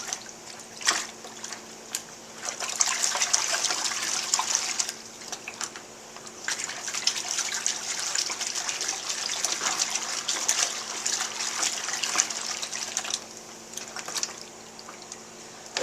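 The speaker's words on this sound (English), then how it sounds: "just give it a nice rinse" Running water rinses carburetor parts after a Pine-Sol soak, a steady close gush and splash that swells and eases as the flow shifts, with no speech over it.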